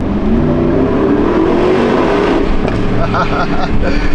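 Porsche Cayenne Turbo GT with a 4-liter twin-turbo V8 accelerating hard while sliding sideways, a loud, sustained engine roar rising in pitch, with someone talking over it.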